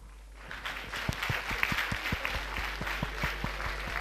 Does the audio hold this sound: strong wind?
no